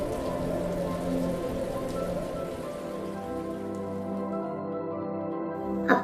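Steady rain pours down in a dense, even hiss for several seconds, with one louder splash or patter near the end and no voices.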